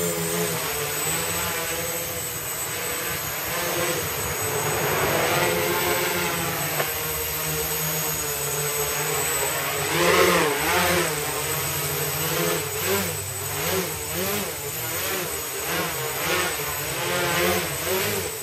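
Quadcopter drone propellers whine and buzz steadily, the pitch wavering and pulsing as it hovers close by in ground effect and wobbles, with no talking.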